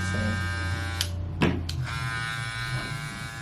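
A Babyliss Lo-ProFX hair clipper runs with a steady, close, high-pitched electric buzz, broken by a few brief handling clicks, with no talking.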